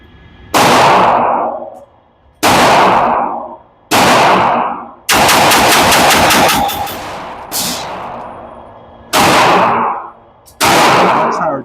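WatchTower pistol magazine emptied at a range day in seven loud, sharp shots, evenly spaced about every one and a half seconds, with one burst of rapid rattling fire in the middle and no talk.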